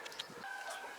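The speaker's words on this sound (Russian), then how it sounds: "Вам слышно, да, за забором там курица гребет," A chicken scratching and clucking behind a fence, heard as faint, scattered clucks and rustling against a steady, noisy outdoor background.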